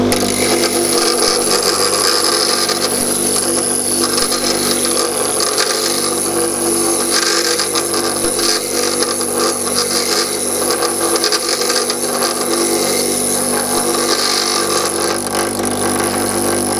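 A drill bit is sharpened on a grinding machine, giving a continuous, dense abrasive grinding and rasping that stays steady and loud for the whole stretch, with no talking over it.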